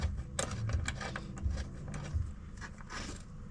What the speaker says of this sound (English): So we'll put this bolt in here.